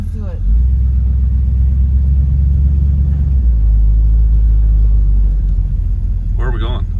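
A 1965 Chevrolet Chevelle Malibu with a 327 V8 idles with a loud, deep, steady rumble close by, while someone briefly talks at the start and end.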